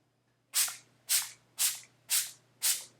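A fine makeup setting spray mister fires five even spritzes about half a second apart, each a short close hiss that fades quickly, with quiet between puffs and no talking.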